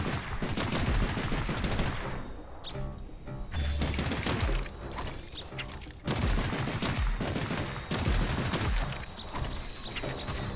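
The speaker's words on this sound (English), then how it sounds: "let's see this explosion again from a distance" Rapid crackling bursts of explosions in the video game Ball X Pit, heard from a distance, dense and overlapping in waves across the whole stretch with brief dips between volleys.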